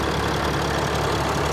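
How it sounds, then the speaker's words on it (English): A Mercedes Sprinter van engine running under the open hood while the van is losing power from a boost leak. It is a steady, close, fairly loud idle drone with no voices. "as you can hear, the engine is running"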